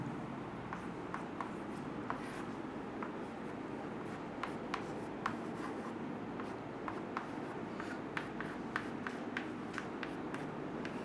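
Chalk or marker writing a cell reaction on a classroom board, a steady run of short scratchy strokes and taps across a faint room hiss, close and fairly quiet, no voices.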